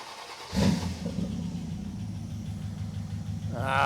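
An engine starting in a garage, catching abruptly and then settling into a steady rumbling run that builds slightly in loudness, close by and with little talk.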